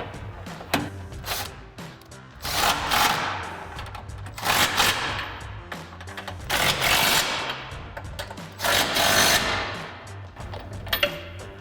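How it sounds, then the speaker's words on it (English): A 3/8 impact gun with a 21 mm socket tightening the bracket bolts of a Rough Country heavy duty rear bumper on a 2017-2022 Ford F-250, loud rapid hammering bursts repeating several times, close up with no talking. "take my 3/8 gun with my 21 millimeter here,"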